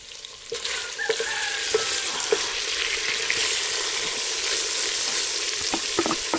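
Onions frying in a little oil in a pan during village cooking in Kenya, giving a steady, even sizzle with occasional light taps and stirs, close and continuous, with no voices.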